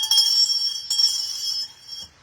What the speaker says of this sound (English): I'm not a good bell ringer.